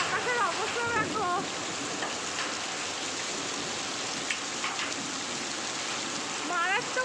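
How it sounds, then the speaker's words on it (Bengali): Heavy rain hammers down in a constant dense hiss around people out in the open, with a voice speaking briefly over the downpour at a few points. "মারাত্মক হারে বৃষ্টি হচ্ছে।"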